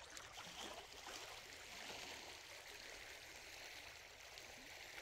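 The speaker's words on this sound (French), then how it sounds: "on entend juste le clapotis des vagues" Small waves lapping softly and continuously at the shore at Punta del Diablo, Uruguay, a faint steady wash with no voices, calm and even.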